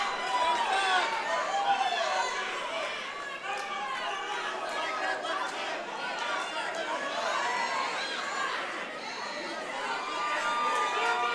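An MMA event crowd murmurs and shouts continuously, a dense chatter with swelling bursts of reaction, heard under a commentator talking.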